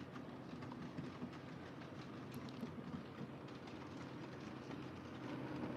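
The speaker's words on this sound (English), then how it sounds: "Here comes the train." A model train rolls steadily along nearby layout track, faster than scale speed, a continuous rattling clatter with faint rhythmic clicks, fairly quiet throughout.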